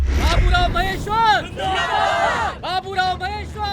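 A large village crowd gathered in the open, a close, dense babble of many voices with some raised, shouting speakers standing out above the general hubbub throughout.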